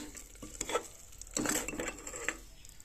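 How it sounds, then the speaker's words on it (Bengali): A spoon scrapes and stirs soaked lentils and broken wheat in a frying pan for a khichdi, giving a few soft scraping strokes with light clinks against the metal, close and fairly quiet, with no one talking. "তো দিয়ে আমি একসঙ্গে সবগুলো একটু ভালো করে মিশিয়ে কষিয়ে নেব 1 থেকে 2 মিনিট।"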